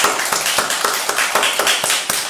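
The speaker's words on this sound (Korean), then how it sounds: "우리 하나님께 감사의 박수 하겠습니다." Congregation clapping in thanks to God during a Korean church worship service, a brief burst of scattered, uneven hand claps with a busy, roomy wash behind it.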